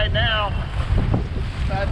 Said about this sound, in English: See, it's gusting in right now